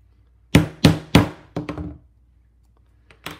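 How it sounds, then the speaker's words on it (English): A hole punch struck through a leather strap: three loud, evenly spaced hammer-like thunks, then a pair of lighter knocks, a pause and one more soft tap, close and dry with no talking. "You go to punch your hole."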